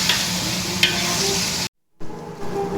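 Onions and ginger-garlic paste sautéing in a pan for mutton biryani give a steady sizzle with stirring, broken by a short silent gap before the frying resumes.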